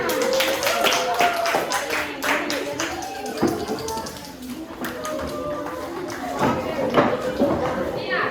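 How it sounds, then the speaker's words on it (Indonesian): Children clap their hands together in a classroom, loose rapid claps and taps mixed with children's voices and chatter, close and lively. "Tepuk tangan."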